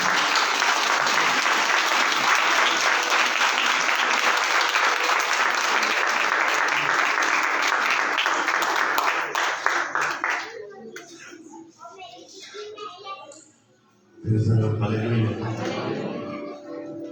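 Church congregation at a Daya Sagar Chamatkar Church service in Amritsar clapping for the Lord: dense, loud, sustained applause for about ten seconds, then fading into scattered claps and murmuring before a voice picks up.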